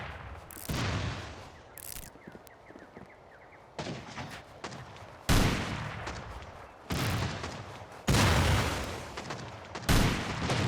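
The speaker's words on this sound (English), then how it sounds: "A lot of people are missing their rockets right now" Rockets fired at a base during a large rocket-launcher raid in the Rust video game: a series of heavy booming blasts, each sharp onset followed by a rumbling decay, arriving every second or two with no voices.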